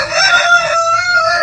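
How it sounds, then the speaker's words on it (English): A rooster on a chicken farm lets out one loud, close cock-a-doodle-doo crow with a rising then held tone, alone without talking. "I'm here on a beautiful chicken farm, surrounded by chickens."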